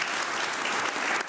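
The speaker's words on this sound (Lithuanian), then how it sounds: "Ir tai yra Justas, plojama Justas." An audience at a company executives' event claps for a guest being introduced, a brief burst of dense, close applause that fades near the end.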